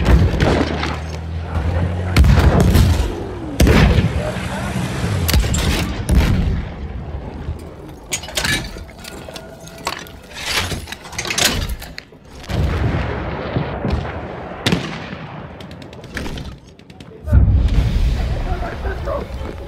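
An artillery barrage in Battlefield 1 on the Monte Grappa Rush map: heavy booms and blasts come in irregular clusters, some loud and near, others rumbling further off, with voices talking between them.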